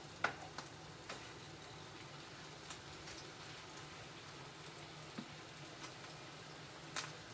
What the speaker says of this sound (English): So I got my fish frying.